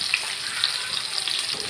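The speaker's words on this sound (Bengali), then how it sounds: "তেলটা গরম হয়ে গেছে, এখন আমি মাছগুলো দিয়ে দিব" Fish frying in hot oil in a frying pan makes a brief, even hiss with light crackles. The sizzle holds steady at moderate loudness.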